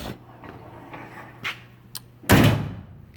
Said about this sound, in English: the doors close amazing